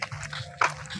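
A dog on a rural roadside near a water spinach field in Tanay, heard as a short bark or yelp midway through, close and fairly loud over a low outdoor background hum.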